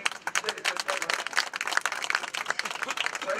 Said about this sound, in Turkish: büyük bir alkış rica ediyorum